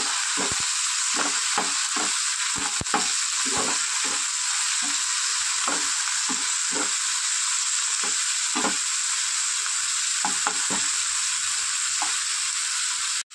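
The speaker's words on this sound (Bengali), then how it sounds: "নাড়াচাড়া করা হয়ে গেছে" Chicken fries in a pan while being stirred, a constant loud sizzle broken by repeated scraping and knocking strokes of a utensil across about thirteen seconds, without speech.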